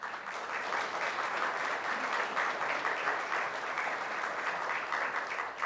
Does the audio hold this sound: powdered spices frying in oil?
no